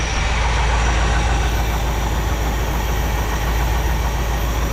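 A 1964 Mercury Monterey convertible's engine, apparently a 352 V8, idles steadily with a deep, even rumble that runs loud and constant throughout, with no talking.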